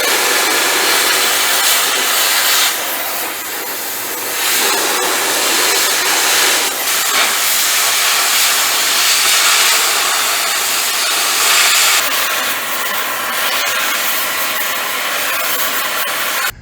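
A power tool cuts through metal for a homemade gooseneck trailer, giving a loud, continuous grinding whine that dips briefly and surges again across the cut.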